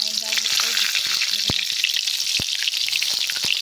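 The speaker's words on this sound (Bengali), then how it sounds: "এঁচড়গুলো এবার তেলে ভেজে নেব আমি" Raw jackfruit pieces fry in hot oil with a steady, close bright sizzle, broken by a couple of sharp clicks from a utensil.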